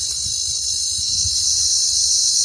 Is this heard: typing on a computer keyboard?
no